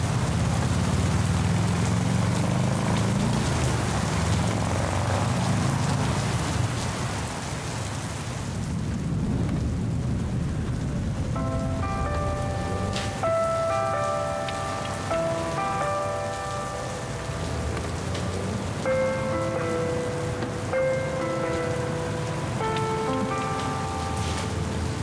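Steady rain falling on surfaces, a dense continuous hiss with low rumbling like distant thunder, later joined by soft musical tones, with no talk.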